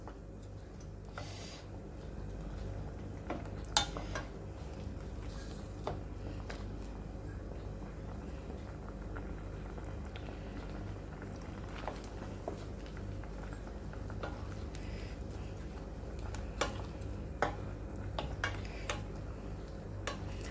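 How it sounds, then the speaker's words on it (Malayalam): Coconut milk potato stew being stirred in a pot makes light, intermittent ticks and scrapes of a spoon against the pot, fairly faint and close, over a low steady background hum. "ആദ്യത്തെ ഒരു 5 മിനിറ്റോളം നമുക്കിത് ഇളക്കി കൊടുത്തുകൊണ്ടിരിക്കാം"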